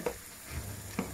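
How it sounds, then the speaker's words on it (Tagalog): Mung beans with pork are stirred in a hot pan, a low, steady sizzle broken by two brief scraping strokes of the spoon about a second apart. "Hahalo-haluin."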